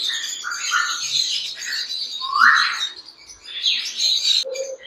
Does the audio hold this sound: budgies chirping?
yes